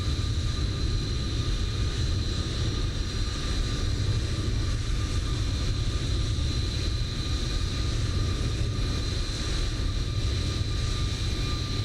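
An airliner rolling down the runway on its takeoff run in Microsoft Flight Simulator, a steady engine roar with a constant high whine, held at an even level and heard alone.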